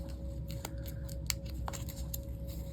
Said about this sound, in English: I'm going to trim the label a little bit if I can.